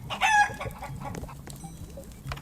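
Chicken clucking and a brief rooster-like call, close and fairly loud at the start, followed by softer scattered clucks and farmyard rustle, with no talking.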